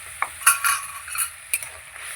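Spice paste sizzling as it is added to a hot pan while cooking katla fish, a brief close crackle with a few sharp stirring clinks, no talking.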